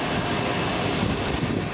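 A Eurocopter EC145 T2, a 4-ton-class civilian helicopter, roars steadily during an aerial display in a dense, continuous broadband engine and rotor noise that stays loud throughout, with no talking.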